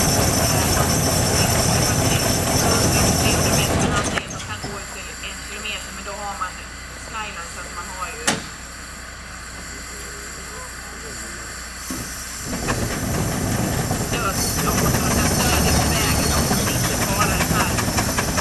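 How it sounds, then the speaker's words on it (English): A 1929 steam donkey logging engine runs at an outdoor logging demonstration, giving off a loud continuous steam hiss and mechanical chugging that fades briefly in the middle and then returns, with people talking over it. "So our steam donkey here, 1929, and was purchased by the McLean family."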